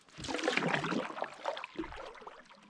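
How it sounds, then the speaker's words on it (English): Water runs and splashes near a lake while a solo canoeist paddles toward a portage, a steady mid-level wash with a brief louder slosh partway through, no voices. "I can hear water"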